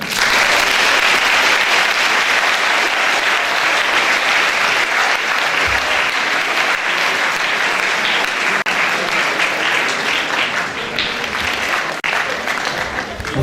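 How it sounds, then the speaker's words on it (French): An audience at a lecture on Jewish marriage applauds steadily throughout, a dense, continuous roomful of clapping with faint voices underneath. "On peut applaudir."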